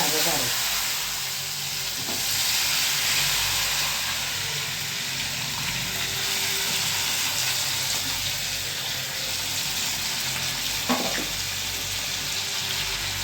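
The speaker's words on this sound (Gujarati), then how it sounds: "હવે રીંગણા વઘારે." Brinjals sizzling as they are tempered in hot oil with mustard seeds and asafoetida for a Gujarati garlic brinjal curry, a steady close frying hiss with a few stirring clinks.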